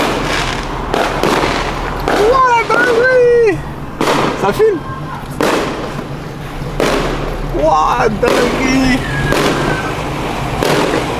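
Fireworks and firecrackers go off at a Christmas celebration, a string of sharp cracking bursts at irregular intervals over a steady background rumble, with excited voices talking and exclaiming between and over the blasts.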